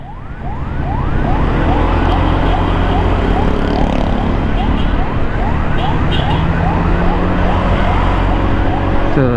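A wailing emergency siren sweeps up and down repeatedly over the steady rumble of road traffic, heard from a motorcycle, loud and continuous throughout.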